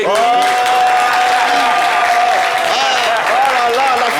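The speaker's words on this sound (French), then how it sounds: "que le public t'applaudisse" An audience at a live show applauds a young woman walking across the stage, steady continuous clapping with a loud sustained high cheer or ululation riding on top throughout.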